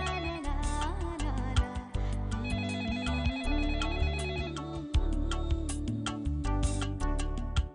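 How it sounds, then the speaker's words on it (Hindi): Telephone ringtone playing a loud, continuous electronic melody with repeating tonal phrases and beats, close and steady for several seconds with no talk. "देख तो किसका फोन है।"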